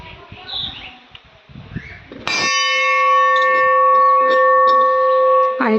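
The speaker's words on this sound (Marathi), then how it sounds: "आणि त्यानंतर इथे मोठी घंटा आहे" A large bell at Siddheshwar temple in Parner rings out in one loud, sustained strike that hangs and slowly decays, following faint outdoor ambience and birdsong.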